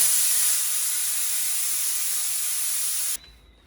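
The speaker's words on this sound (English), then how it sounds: "we need to relieve the pressure so it stops cooking" A pressure cooker vents steam through its lifted valve in a loud, continuous close-up hiss for about three seconds, then cuts off abruptly, leaving a faint residual sound.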